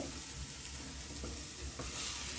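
Masala with chilli, coriander, cumin and fennel sautéing in a pan, a soft continuous sizzle with faint stirring scrapes, fairly quiet.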